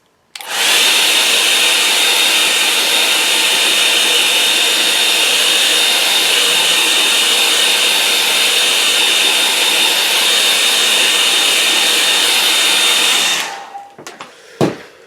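A hair dryer blows steadily on wet watercolour paint, a loud continuous whooshing roar with a faint whine that runs alone for about thirteen seconds, then cuts off, leaving a few small handling knocks.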